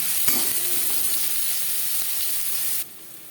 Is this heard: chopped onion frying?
yes